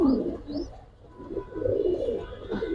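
Soft, low pigeon coos repeat in a loose rhythm, close and moderately loud, with a few higher chirps mixed in and no talking.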